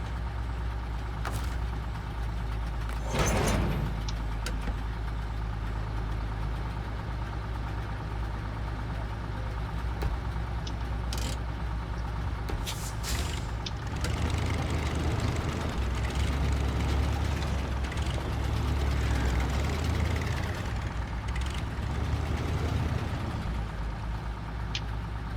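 In SnowRunner, the heavy Lodestar Heavy Recovery truck idles with a steady low rumble. The engine revs up briefly in the middle, and a few clicks and clunks sound over the drone.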